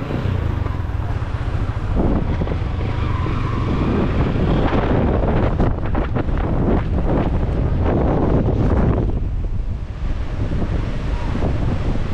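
Strong wind buffets the microphone with loud, continuous low rumble and broadband roar, gusting unevenly throughout with brief louder bursts mid-way, no talking.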